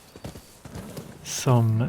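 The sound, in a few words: horse hooves clip-clopping in video game Rise of the Ronin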